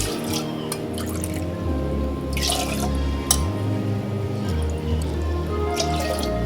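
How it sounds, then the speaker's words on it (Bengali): Water poured into a pressure cooker holding washed chana dal: a close, quiet stream of splashing and dripping with a few sharper bursts, steady over several seconds, no voices. "তিন চার কাপ জল দিয়ে দিলাম"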